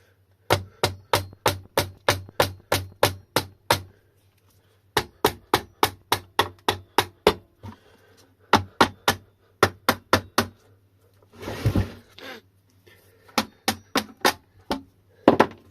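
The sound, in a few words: hammering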